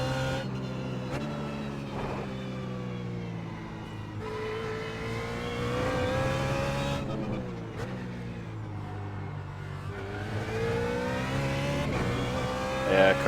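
A BMW Z4 GT3 race car laps the Sonoma track, heard close from onboard: its engine drones and climbs in pitch, dropping abruptly at several gearshifts before revving up again, with no talking.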